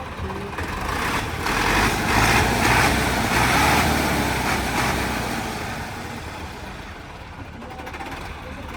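A modified Massey Ferguson 385 tractor with a plunger diesel pump and turbo, running close by in a steady diesel rumble that swells slightly and then eases, with faint talk in the background.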